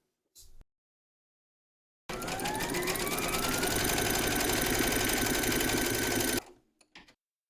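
An embroidery sewing machine stitches a placement outline on hooped fabric, a steady loud whirring run of about four seconds with rising pitch, framed by brief clicks and handling noises before and after.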